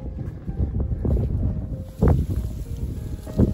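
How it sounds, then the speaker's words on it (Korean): Strong wind rushes in buffeting gusts across a rocky mountain ridge with iron safety railings, booming against the microphone close up, with a sharp surge near the end. "능선 위로 올라오니까 바람이 조금 거세게 부는데"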